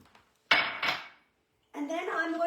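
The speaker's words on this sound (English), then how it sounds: "add all my almonds to the blender." Almonds are poured into a blender jar in a home kitchen, producing two separate bursts of hard clattering, loud and close, with a quiet gap between them.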